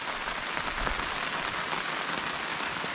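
Rain falls steadily on a tarp at a campsite, a dense, even patter close overhead with no voices.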